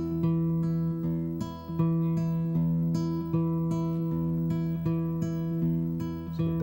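Steady acoustic guitar picking with regular bass notes and lighter plucked strings falling in between, an even rolling rhythm, close and alone.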